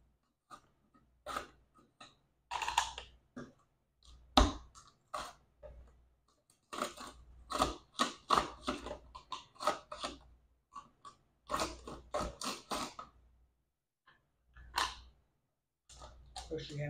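Potatoes being pushed through a manual vegetable chopper fitted with a 2 millimeter slicer blade, giving sharp crunching snaps in short irregular bursts, close and fairly loud, with a few quiet pauses between presses.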